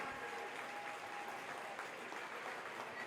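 Steady crowd applause at a Gaelic football senior championship final ceremony in Cavan, saluting the Cavan Minor champions. A dense, continuous wash of clapping fills the clip at an even distance, with no speech over it.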